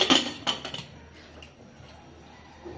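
A metal lid clinks onto a cooking pot in a home kitchen, a few sharp clatters at the start followed by quiet room tone and a faint tick near the end.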